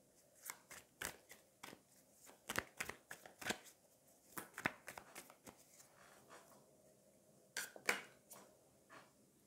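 Tarot cards being drawn and handled, heard as a series of quick, crisp snaps and papery rustles in irregular bursts, fairly close and quiet, with no voices.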